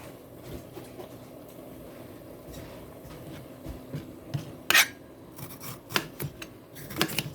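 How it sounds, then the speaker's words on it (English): A knife cuts vegetables, mushrooms among them, into big chunky pieces on a board, giving soft scraping and several sharper chops that grow busier toward the end, close and fairly quiet. "let's go ahead and finish cutting up the rest of these vegetables"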